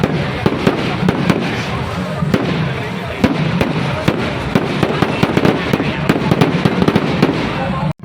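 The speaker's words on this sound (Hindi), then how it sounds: "इस दौरान आतिशबाजी हुई, जिसे देखने के लिए हजारों की संख्या में श्रद्धालुओं की भीड़ उमड़ी" Fireworks at a puja festival before a large crowd of devotees; dense, rapid crackling bursts and pops continue throughout, loud and close, with crowd voices mixed in.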